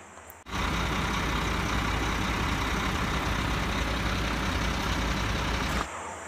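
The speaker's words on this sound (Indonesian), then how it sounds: "ini mobil truk derek" A toy tow truck gives off a steady engine-like rumble that starts abruptly, holds at an even level for several seconds, then cuts off, with no voices.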